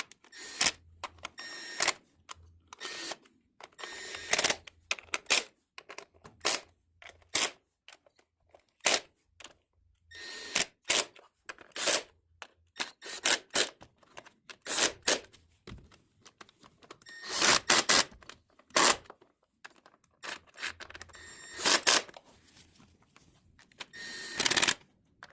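Small bolts being run down by hand tool while fitting coil packs on a BMW E46 engine, a steady series of sharp, close metallic clicks and ratcheting bursts with short pauses between, no talking.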